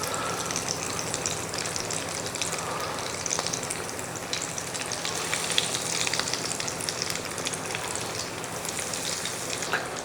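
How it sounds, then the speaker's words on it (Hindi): Aloo tikki potato patties fry in a pan, giving off a continuous, even sizzle and crackle for the whole stretch, close and moderately loud, with no voices over it. "और दूसरी साइड को भी 2 से 3 मिनट के लिए अच्छे से कुक कर लेंगे या कि इनको फ्राई कर लेंगे।"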